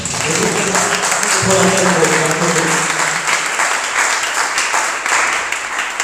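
A church congregation at a midweek worship service bursts into applause and cheering, a loud sustained wash of clapping with shouting voices throughout.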